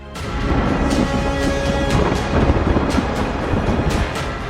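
Heavy rain and gusting storm winds from Cyclone Biparjoy roar continuously on the coast, with repeated sharp bursts like crashing waves or thunder cutting through a dense, loud wash of noise.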